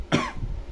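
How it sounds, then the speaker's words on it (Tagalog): A single close, sharp human cough bursting out at once and trailing off quickly into a quiet room. "Ubo na lang talaga."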